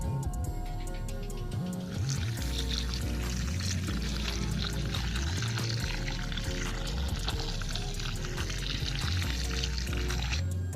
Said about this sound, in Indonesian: kita siram lagi agar terlihat